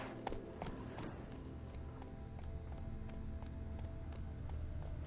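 Horse galloping in the video game The Witcher 3: Blood and Wine on PS5, with a faint, steady run of rapid hoofbeats under game ambience and no talk.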